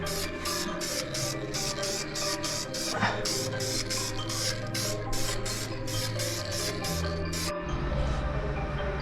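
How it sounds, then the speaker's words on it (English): A spray can hisses fire stopper onto the reinforced subframe of an LS-swapped BMW E46. Rapid, evenly spaced spritzes come close and loud for several seconds, then stop, leaving low shop rumble. "now we're just gonna give her a little spritz here for before we put the subframe back in"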